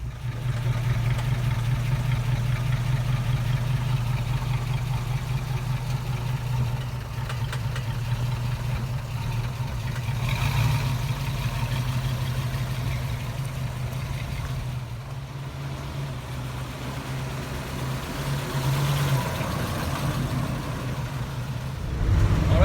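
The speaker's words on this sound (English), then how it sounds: "driving 1966 Ford Mustang. I'm on the highway right now" A 1966 Ford Mustang cruises along a highway, its engine a steady low hum with a droning tone that swells slightly and eases, constant road and wind noise around it, no talking.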